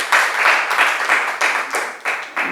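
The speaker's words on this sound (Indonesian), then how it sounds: "Beri tepuk tangan untuk kelompok 5." Classroom students clap for a student group, a loud, close burst of rhythmic clapping in rapid, evenly spaced pulses lasting a couple of seconds.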